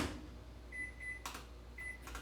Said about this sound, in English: I'm just gonna pop them in the microwave for 1 minute.